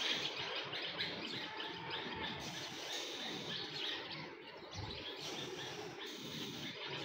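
Birds call and chirp softly in a garden, faint and continuous, with several overlapping tweets and a low outdoor hum beneath.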